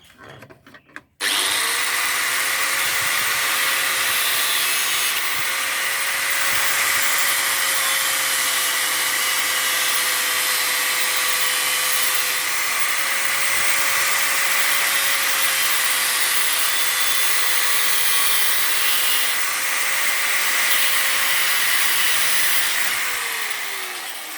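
An angle grinder cuts a metal part for a homemade seal driver for an XR250R motorcycle, starting abruptly after a brief clatter and running as a loud, steady whine with a faintly wavering pitch for over twenty seconds, with no talk.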